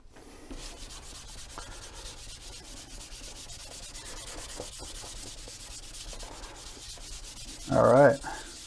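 A wood finish is dry sanded with 600 grit sandpaper, a soft continuous rubbing hiss of close, quick strokes, ending in a brief louder scuff.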